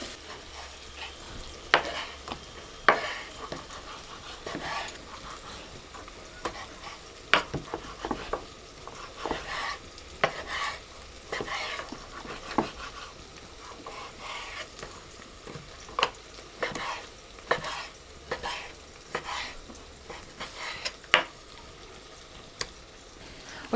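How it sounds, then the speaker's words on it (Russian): Onions frying in a pan, a steady sizzling hiss broken by frequent sharp clicks and scrapes of stirring, close by with no talking. "я обжариваю чуть-чуть лук и туда мясо сразу кидаю"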